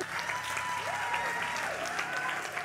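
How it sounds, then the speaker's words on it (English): Audience applause, a soft, steady patter of clapping heard at a distance with faint tones drifting over it. "Yes, round of applause."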